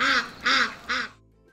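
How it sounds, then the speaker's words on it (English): Domestic ducks quacking: three loud, evenly spaced nasal quacks close by, followed by a brief quiet tail. "Let's hear ducks quack."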